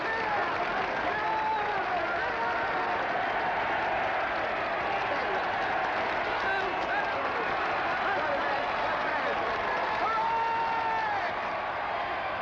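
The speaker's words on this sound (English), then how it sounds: "all the way around the ground, people are standing up cheering" A 1950s cricket ground crowd cheers and applauds as a batsman walks back to the pavilion, a broad, steady roar of distant voices and clapping that runs throughout.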